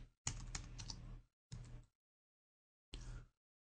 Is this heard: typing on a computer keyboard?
yes